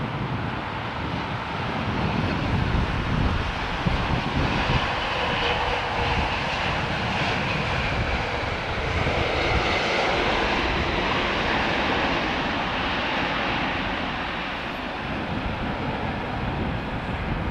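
Qantas airliner jet engines roaring steadily as the aircraft flies past at London Heathrow Airport, a broad continuous rumble with wind noise on the microphone and no talking.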